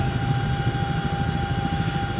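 A Chinook helicopter flown in a VR flight simulator gives off a steady, loud rotor and engine drone with a constant whine and low rumble, and no speech.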